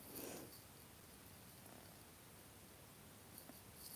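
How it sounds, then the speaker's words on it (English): A female cat purrs close by in a quiet room, a soft continuous rumbling with a slight breathy texture. It runs without a break for four seconds, with a brief rustle near the start and no speech. "She's purring really loud."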